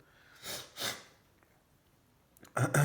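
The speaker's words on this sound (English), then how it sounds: "Sorry for my sniffles." Two soft sniffs through the nose close together, followed after a pause by a louder, breathy burst of nasal sound.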